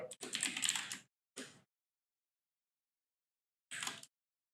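Keys clatter on a computer keyboard in quick bursts, a dense flurry of clicks followed by a short cluster and, after a silent pause, one more burst. The typing is near and crisp in an otherwise silent room.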